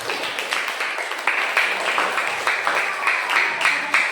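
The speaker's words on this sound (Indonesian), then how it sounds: "Kita beri tepuk tangan untuk Bapak." A classroom of students claps for their teacher, with a steady patter of hand claps in bursts that rise and fall over a few seconds, fairly close and loud.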